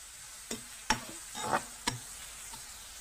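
Ingredients for a Tamil fish curry (meen kulambu) being sautéed in hot oil, with a few sharp scraping stirs of a spoon against the pan over a faint, quiet sizzle.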